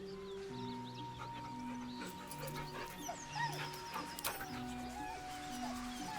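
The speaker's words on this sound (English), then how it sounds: "The dog whimpers nervously, as if to urge you on." A dog whimpering nervously in Baldur's Gate 3, a string of soft high whines and yips set over a low ambient music bed, close and fairly quiet, with no talk.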